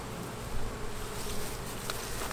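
Steady, dense buzzing of many honey bees up close on hive frames, a continuous droning hum with no talking.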